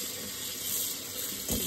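Tap water runs steadily into a sink as sea grapes are washed, a continuous close hiss with a brief louder splash near the end.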